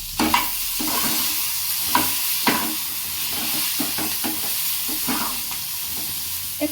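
Slit green chilies sizzle and hiss in hot oil in a pan, with a steady frying crackle and periodic scraping taps of a spatula stirring them, close and continuous with no talk.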